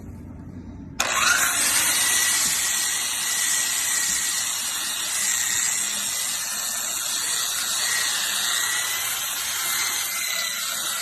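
Restore power tool with a 120 grit sanding drum starts up and runs on a flat wooden furniture surface, a steady high whirring grind that holds close and loud after a brief quiet start.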